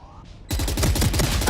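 Rapid gunfire in a Valorant professional match, a long-range headshot amid a dense, loud burst of repeated shots that starts abruptly after a quiet moment, with commentators talking underneath.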